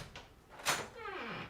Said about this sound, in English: when the door creaks open